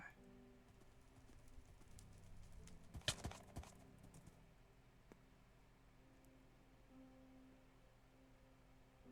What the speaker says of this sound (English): If any of you are familiar with skeleton horses